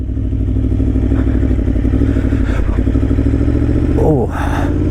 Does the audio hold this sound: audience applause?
no